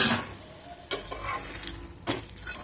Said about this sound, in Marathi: खरपूस थालीपीठ शेकून घ्यायचं आहे